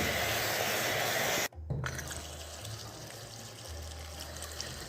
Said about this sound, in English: Now it's time to wash out the smoked herring and boil it.